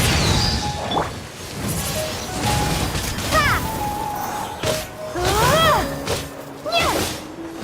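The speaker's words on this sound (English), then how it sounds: "Here come the fireworks!" Video game fireworks go off in a string of crashing bursts and whooshes with sweeping, whistling tones, loud and close in the game's sound mix.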